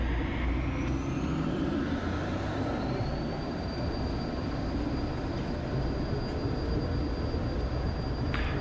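A small propeller airplane rolls down a runway on its takeoff run, a loud, steady engine and rumble filling the cabin with a rising whine and no talk.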